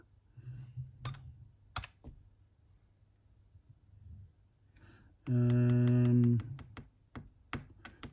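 Typing on the keyboard of a Canon X-07 computer, sparse close clicks and key taps spread across the span, interrupted by a loud sustained electronic beep lasting about a second.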